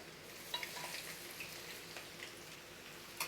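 Soft, steady sizzling of onion frying in hot oil in a wok, with faint crackles and pops, quiet and close, no talking.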